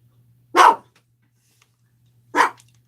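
A puppy, apparently in distress, gives two sharp, separate barks about two seconds apart, loud and close over an otherwise quiet background with a faint low hum.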